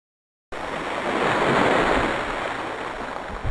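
Sea waves wash in a broad, continuous roar that swells and then eases after a brief silent start, with wind noise mixed in.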